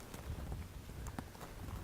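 Horse hooves clip-clopping on the ground while the rider works a small group of heifers, irregular soft thuds under low background noise.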